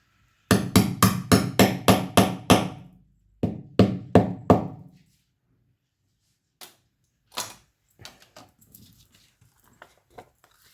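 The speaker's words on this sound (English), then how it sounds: "you put that down, put that in the bobble and hammer it" A quick run of sharp metallic hammer blows on an eyelet setter, about a dozen in rhythmic bursts, then a few scattered taps and small clatters close by.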